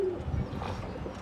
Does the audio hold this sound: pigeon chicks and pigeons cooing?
yes